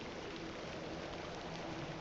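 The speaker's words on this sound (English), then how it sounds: "Little rain is no bother." Steady, faint rain from The Excavation of Hob's Barrow falls as an even, soft hiss with no breaks, quiet and distant.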